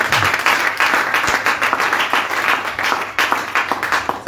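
A church congregation claps together at a Sunday service, producing steady, dense applause that stays loud and continuous throughout, with a faint voice underneath.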